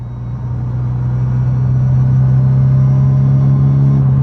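Mazda 3 driving with a DIY supercharger whine sound tube fitted before the MAF sensor, a loud steady engine drone inside the cabin with a sustained tonal hum that builds slightly under light throttle.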